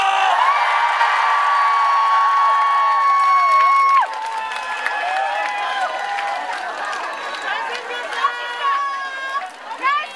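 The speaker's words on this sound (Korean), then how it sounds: "7관왕 달성을 축하하는 의미에서 박수와 함성!" A large outdoor audience at a festival concert applauds and cheers, with sustained whoops and shouts that fade into scattered clapping and calls, and voices rising through the crowd.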